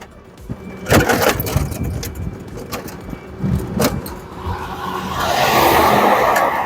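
AFIKIM Afiscooter C4 heavy-duty four-wheel mobility scooter being ridden, with clatter and bumps over a motor hum and a rising broadband rush toward the end, close and moderately loud, no speech.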